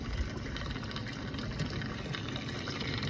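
Gasoline pours into the fuel tank of a four-wheeler ATV, making a steady, close rushing hiss that runs unbroken, with no voices.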